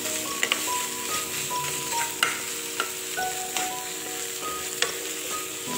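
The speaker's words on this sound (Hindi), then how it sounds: "हमने तब तक पकाना है जब तक जो मावा है वो सॉफ्ट ना हो जाए" Mawa (khoya) stirred and cooked in a pan until soft, with a steady soft sizzle and a few light scraping clicks of the utensil, close and unaccompanied by speech.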